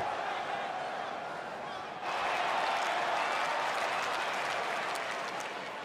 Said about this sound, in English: Would you listen to this crowd?